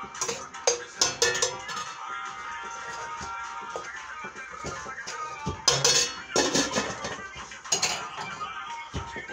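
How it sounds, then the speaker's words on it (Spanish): Metal utensils clatter and scrape against a pan of frying pork pieces in steady, uneven strokes, with a faint sizzle underneath and no talking. "vamos a revolver las carnecitas porque las vamos como a freír un poquito."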